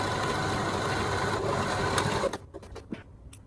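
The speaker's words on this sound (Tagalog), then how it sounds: "Then, what you're going to do is, you have to sew." A sewing machine stitches a homemade fabric face mask, whirring steadily and close for about two seconds before stopping, followed by a few faint clicks.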